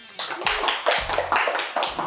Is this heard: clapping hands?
yes